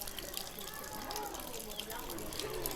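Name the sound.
water running from an opened tap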